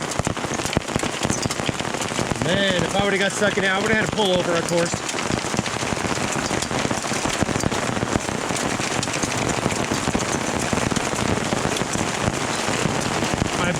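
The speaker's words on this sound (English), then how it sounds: "This is pea-size hail." Pea-size hail drums on a Jeep in a dense, steady, loud clatter that never lets up, while someone speaks briefly over it early on.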